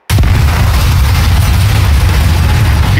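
A video-game explosion erupts abruptly from silence into a loud, sustained deep rumbling boom that keeps roaring for several seconds, with no talk.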